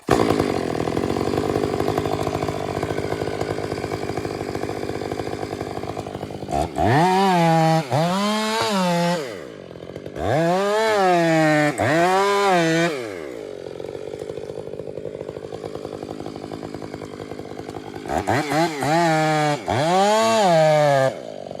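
A chainsaw idles loudly up close, then revs hard in three long bursts while bore cutting into a tree, dropping back to a rough idle between each surge.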